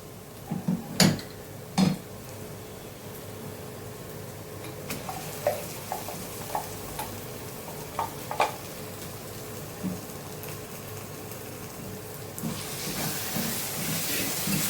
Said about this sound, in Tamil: இப்போ வந்து நம்ம அரைச்சி வச்ச சாந்து ஊற்றிக்கலாம்